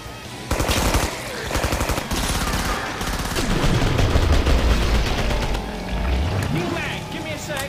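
Rapid bursts of Thompson submachine gun fire in the video game Killing Floor, loud and close, rattling in repeated strings amid other game effects while players talk over the shooting.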